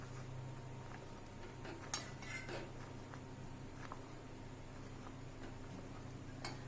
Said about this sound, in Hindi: इस तरह से चलाते हुए हम अच्छी तरह से पका लेंगे।